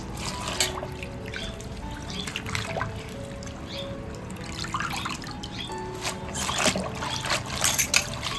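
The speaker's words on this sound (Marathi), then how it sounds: "व्यवस्थित ना अशी धुवून घ्यायची ते बघा पाण्यामध्ये, म्हणजे पूर्ण ते क्लीन होऊन जाते." Vegetables such as spinach being washed by hand in a pot of water at home: soft splashes, drips and trickles close by, irregular and gentle, with a few faint background noises.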